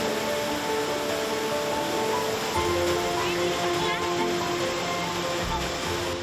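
Steady, full rush of a waterfall in a primeval forest in Guizhou, China, holding plenty of water even in midwinter; a constant broadband roar runs throughout with faint voices underneath.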